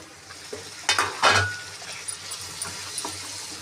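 Chopped tomatoes tipped into hot oil for egg curry, a brief burst of sizzling with a few spoon-on-pan clanks, then a quiet low sizzle and light stirring.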